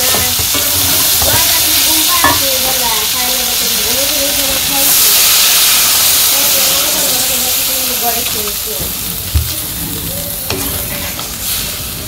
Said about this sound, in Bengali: সবজি তো কষানো হয়ে গেছে গা, জল দিয়ে দিই